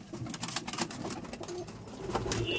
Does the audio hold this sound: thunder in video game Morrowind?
no